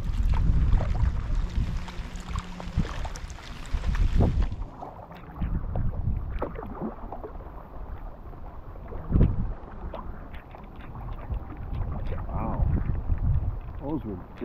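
Wind gusts across a lake during a canoe or kayak paddle, a rough, rumbling roar against the microphone with occasional paddle splashes, under intermittent talk.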